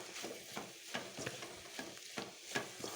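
Broad beans frying with a spice powder, stirred in a pan: a quiet sizzle broken by regular scraping strokes roughly twice a second, close and alone.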